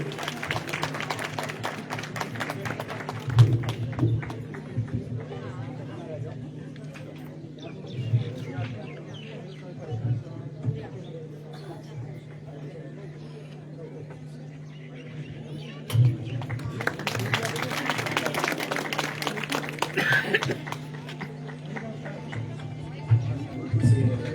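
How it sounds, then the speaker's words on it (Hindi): Villagers at a rural government outreach event in Kashlog clap for the Navdi women's group. Bursts of crowd applause swell at the start and again later, with talking and a low hum in between. "तो एक बार जोरदार तालियां महिला मंडल नेवड़ी के लिए।"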